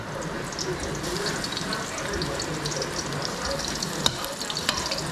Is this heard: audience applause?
no